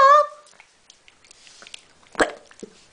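A single loud dog bark opens, followed by quiet scuffling and a second short sharp yelp or bark nearby.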